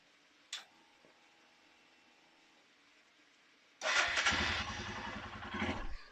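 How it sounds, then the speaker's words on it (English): A small 125 cc Chinese motorcycle fires up after a quiet stretch with a faint tick, its engine catching and running loud and close with a rough, pulsing idle. "Then we'll turn the bike on, make sure it's working."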